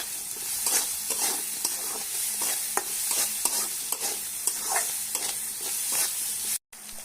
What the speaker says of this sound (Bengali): ভেজে রাখা চিকেন দিয়ে দিলাম